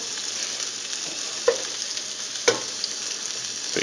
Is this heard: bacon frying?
yes